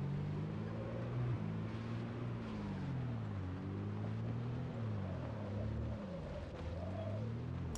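A battered, loud truck engine in a zombie survival game drones steadily throughout, its low pitch wavering slightly as it drives, with no talking.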